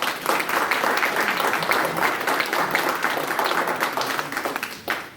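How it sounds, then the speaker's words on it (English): Applause from the audience at a township trustee candidate forum, a full round of clapping that rises quickly, holds steady, and tapers off just before the end. "Let's give them all a round of applause."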